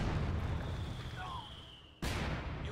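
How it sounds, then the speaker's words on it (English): A mortar half-track fires in a video game: a dense rumble of battle noise, then one sharp, loud blast close by near the end. "mortar half-track continues to fire on various stuff"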